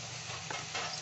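Lightly pre-fried chicken pieces tipped into hot oil with spices for a Bengali doi chicken, giving a steady close sizzle with brief stirring scrapes and a small clatter at the end.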